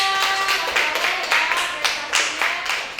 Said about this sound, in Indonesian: kasih tepuk tangan untuk Aska.